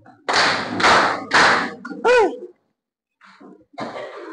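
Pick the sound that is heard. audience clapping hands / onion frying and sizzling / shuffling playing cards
audience clapping hands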